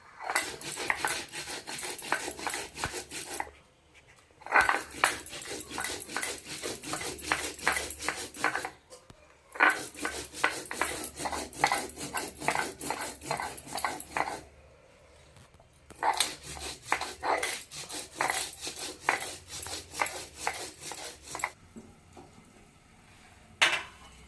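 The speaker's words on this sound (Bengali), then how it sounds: "আমি শিলে বেটেই রান্না করি তাই বেটে নিচ্ছি" Spice paste for mutton curry is ground by hand on a stone slab (shil), making rapid rhythmic rasping strokes in long bursts separated by short pauses.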